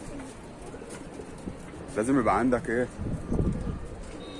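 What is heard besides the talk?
pigeons cooing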